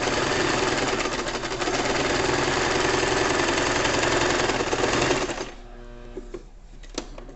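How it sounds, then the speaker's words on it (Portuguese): A home sewing machine stitches a crochet bag's fabric lining in a fast, even mechanical rattle for about five seconds, then stops, leaving a few faint clicks and handling noises. "Minha máquina, a máquina caseira mesmo."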